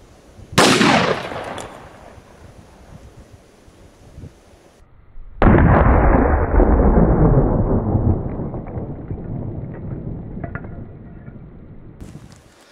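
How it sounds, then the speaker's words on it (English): .223 hollow point rounds fired at a stack of cement blocks: a sharp, loud shot near the start rings out and decays, then a second heavy blast follows midway with a long rumbling tail and debris noise. "So next I'm going to try shooting the stack of cement blocks, and this time I think I'll start with the hollow point."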